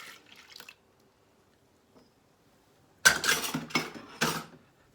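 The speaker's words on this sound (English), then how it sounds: "we're gonna put in our oil and our vanilla and our water and our milk" Liquids and utensils clatter into a batter mixer and dispenser while waffle puff batter is made: a faint brief clink early on, then a loud burst of splashing and knocking clatter near the end.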